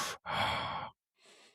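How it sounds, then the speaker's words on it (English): Heavy, close breaths into a microphone: one long, loud exhale-like sigh after a short burst, then a softer breath following a brief pause. "the microphone just hears you just like heavy breathing"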